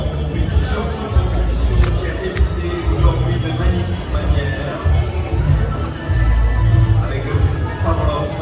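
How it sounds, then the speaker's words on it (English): Sidewalk crowd at the Cannes Film Festival near a big premiere, a steady close hubbub of many voices and shuffling footsteps with continuous babble throughout. "I forgot how bad the crowds could be here, especially when a big celebrity's coming through."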